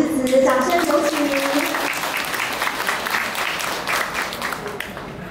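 Applause from an audience welcoming a speaker at the opening of a Taoyuan watercolour exhibition, a steady broadband wash that runs throughout, with a voice talking over the first two seconds.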